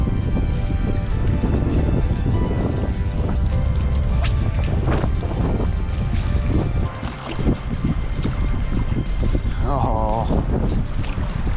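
Wind buffets a microphone steadily beside water while fishing for trout in wind and rain, a continuous loud rumbling roar with a brief lull, and a short voiced exclamation over it.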